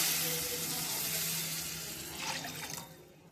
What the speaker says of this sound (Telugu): రవ్వ ఉడుకుతుంది.